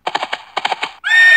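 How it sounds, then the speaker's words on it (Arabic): A horse neigh sound effect plays in a Scratch horse race game, a loud whinny made of rapid pulsed bursts in two runs, then a sustained bright tone rising at the end. "عند الضغط على رقم 1 سيتحرك الحصان مع إصدار صوت"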